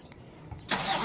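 A 2000 Toyota Revo engine cranks briefly after a few faint clicks, then catches and bursts into a loud, broad roar that settles into steady running.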